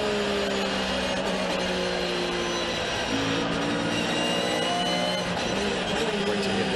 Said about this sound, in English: Great to hear the sound of the car being pushed and worked very, very hard through the gravel